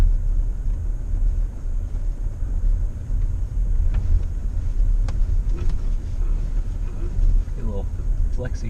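A Toyota Tacoma TRD Off-Road crawls along a rocky national forest trail, with a continuous low engine and drivetrain rumble inside the cab, faint knocks and rattles from the bumpy ground, and brief voices near the end.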